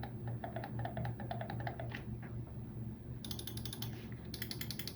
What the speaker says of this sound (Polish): Myszka korzysta z silent switchy, czyli wyciszonych przycisków